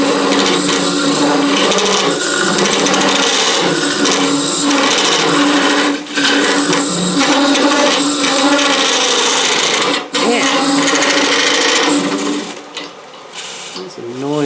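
A Pro-Forme Flexi Hollower cutter bores into wood with a loud, continuous buzzing grind, briefly dipping twice and then tapering into lighter scraping near the end, with no talk over it.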